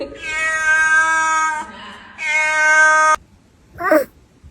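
A cat gives two long, drawn-out meows close up, loud and tonal, followed after a short pause by a brief higher squeak.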